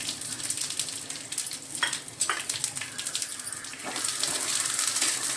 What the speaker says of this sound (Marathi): पावटे आता आपण तेलामध्ये भाजून घेऊया।